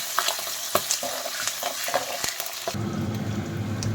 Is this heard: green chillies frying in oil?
yes